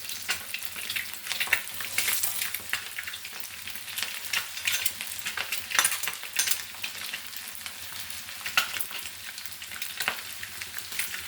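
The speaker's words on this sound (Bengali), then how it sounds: "আমি এখানে দিয়ে দিচ্ছি পেঁয়াজ কুচি।" Chopped onion frying in a pan for an egg curry, giving a steady, moderately loud sizzle with occasional crackles and stirring scrapes, no voices.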